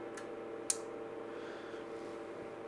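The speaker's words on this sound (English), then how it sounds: "and then the relay kicked in." A relay on the DC protection board of a SYMEF stereo amplifier clicks on once, a single crisp snap standing out over a steady background fan hum, with a fainter tick just before.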